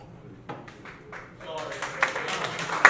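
Comedy club audience breaking into applause that builds from scattered claps to a fuller burst over a couple of seconds, under and after a comedian's talking.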